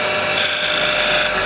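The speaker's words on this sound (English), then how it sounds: "And I'll just clean up the very side here with the skew. Just scraping with the side bevel." The side bevel of a skew chisel scrapes spinning wood on a woodturning lathe, producing a steady, close, hissing rasp. It swells slightly in the middle of the short stretch and has no pauses.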